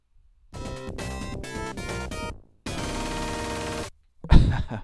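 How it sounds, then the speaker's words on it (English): Short bursts of chiptune-style game music, choppy and buzzy, stop and restart, ending with a low thump. "So there's a Game Over theme,"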